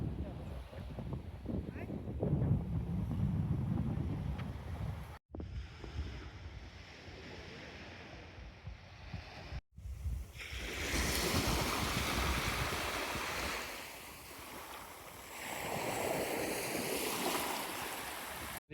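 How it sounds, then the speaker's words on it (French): Surf rolls onto a beach at Koh Lanta, Thailand, a continuous washing roar mixed with heavy wind buffeting on the microphone, broken by abrupt cuts between segments. "on est arrivé sur la plage avec le phare"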